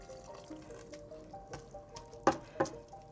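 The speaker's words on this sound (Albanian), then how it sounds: "Tashti shtoj pak ujë." Water is poured into a pot of rice and spinach, making a soft, quiet trickle with a few small splashes and drips close by and no talking.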